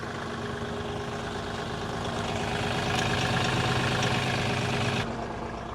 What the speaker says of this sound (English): See if we can winch it out. You're going to try to use the U Force winch to see if it'll pull?